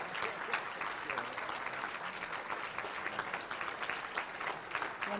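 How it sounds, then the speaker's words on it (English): A Rotary club audience claps steadily at a meeting, dense continuous applause from a room full of people at moderate, somewhat distant level. "They're still clapping."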